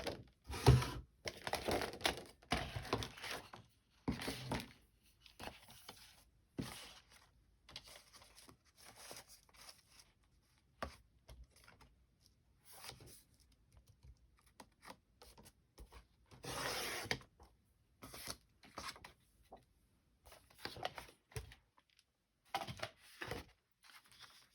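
Paper is cut for a spring journal, making faint, scattered rasping and snipping sounds in uneven bursts across a long, quiet stretch.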